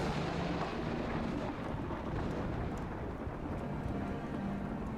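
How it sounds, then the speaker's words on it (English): Thunder rumbling loudly and steadily throughout, a deep continuous roll with rain-like hiss beneath, part of a Dragons of Stormwreck Isle D&D session ambience, no voices present. "a loud crash of thunder"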